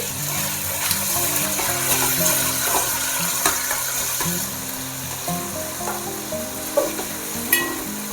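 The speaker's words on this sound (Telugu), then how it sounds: "ఇప్పుడు దీంట్లోకి మనం టమాటా వేసేసుకుందాము టమాటా కొంచెం మగ్గాలి సాఫ్ట్గా అయ్యేంత వరకు ఉడికించుకోవాలి" Tomatoes sizzle and fry in a pan for a paneer and soya chunk biryani, a steady close hiss with occasional stirring clinks and scrapes, no talk over it.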